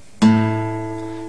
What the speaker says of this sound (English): And the note that you're hearing now is A